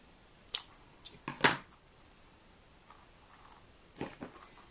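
Snips cutting through the plastic of a recycled mini-dome Christmas ornament part, heard as a few sharp, faint clicks and snaps spread across a quiet background.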